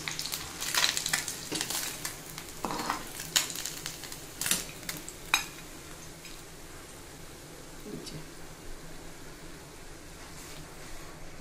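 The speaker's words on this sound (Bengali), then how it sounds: "এই যে বাকি মাছগুলো ভেজে নেওয়া হয়ে গেল।" Small puti fish fry in oil in a pan, a low steady sizzle under irregular clinks and scrapes of a utensil that are busier at first and then give way to a quieter simmering hiss.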